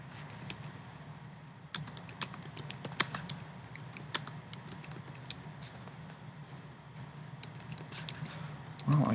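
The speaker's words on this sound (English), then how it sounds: "I cannot type today." Rapid typing on a computer keyboard, close and fairly quiet, with irregular bursts of key clicks running throughout and a few louder taps.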